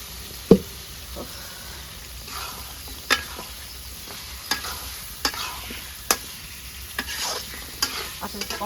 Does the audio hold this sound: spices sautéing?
yes